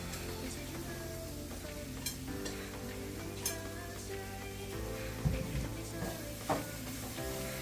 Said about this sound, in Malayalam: ഇനി ഇതിലേക്ക് ഈ ക്യാപ്സിക്കം അരിഞ്ഞതാണ് ഇടുന്നത്